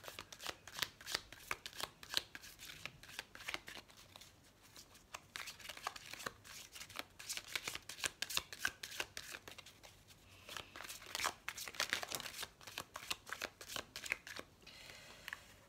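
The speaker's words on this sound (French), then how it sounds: "on va prendre une carte de l'oracle des amoureux" An oracle card deck for love readings handled up close, with dense papery riffling, flicking and slapping of cards in continuous bursts, fairly quiet and with no talking.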